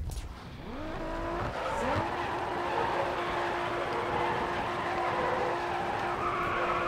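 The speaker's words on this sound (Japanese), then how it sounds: "長いドリフトできたんじゃない" A 2003 Nissan Silvia drifts in GRID Autosport, its tires squealing in a long sustained screech over a loud revving engine, the pitch rising and holding steady for several seconds.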